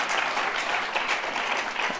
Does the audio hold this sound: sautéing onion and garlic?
no